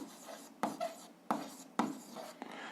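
Handwriting on paper while working an algebra exercise, a few soft scratchy pen strokes in short separate bursts, close and quiet.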